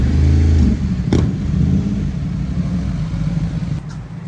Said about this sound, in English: Traffic is unrelenting, just a continuous line of traffic.